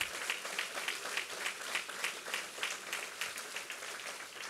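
Applause from the audience at a get-out-the-vote political rally, continuous crowd clapping heard at a distance and fairly faint, steady throughout with no speech on top.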